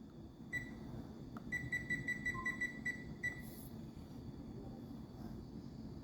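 An oven timer is set for home stoving tobacco: a quick run of about eight evenly spaced, thin electronic beeps, fairly faint over steady low background hum.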